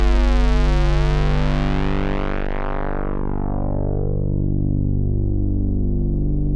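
A buzzy square-wave synth bass tone, loud and sustained, its bright upper harmonics steadily dulling as a filter sweeps down over several seconds.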